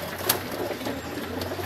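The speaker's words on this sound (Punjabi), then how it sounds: "ਥੋੜ੍ਹੇ ਜਿਹੇ ਕਬੂਤਰ ਇਹਨਾਂ ਦੇ, ਸ਼ਹਿਰੀ ਟਾਈਪ ਕਬੂਤਰ ਆ ਜੀ, ਕਾਲਸਰੇ" City-type pigeons coo softly and steadily in a low repeated murmur, fairly close, with a faint sharp chirp near the start and no talk.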